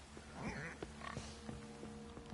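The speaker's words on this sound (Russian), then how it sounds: "Свинюшки." Pigs in The Witcher 3 video game grunting and oinking in low, rough snorts, several brief calls over a steady game background hum.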